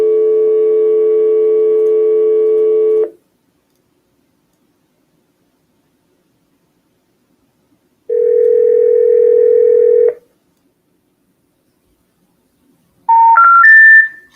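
Two long, loud steady telephone tones with a silent gap between them are followed by a short rising three-note signal on a cold call that fails to connect to an out-of-service number.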